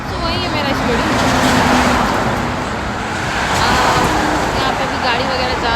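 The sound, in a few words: road traffic, vehicles passing by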